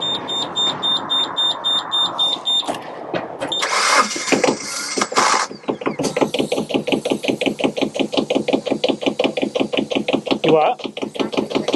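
The engine of a heat exchanger stack cranks with an alarm beeping, then catches and runs with a loud, fast, rhythmic knocking chug that continues steadily to the end. A voice briefly speaks over it.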